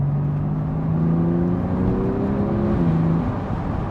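A Porsche 911 Turbo S engine droning steadily with rising and falling pitch as the PDK gearbox shifts, heard loud and close throughout with no talking.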